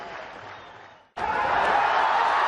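Applause from the camp at a 1999 Pakistan versus India Sharjah Cup cricket match: a steady wash of clapping fades briefly, then returns abruptly and fuller, sustained and moderately distant.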